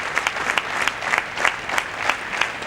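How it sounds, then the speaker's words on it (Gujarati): An audience at a 37th annual day function applauds three teachers on stage who served the institutions for three decades. Many hands clap in a dense, steady wash that holds for the whole stretch, with no talking over it. "આપણે તાળીઓથી તેઓનું હાર્દિક અભિવાદન કરીએ"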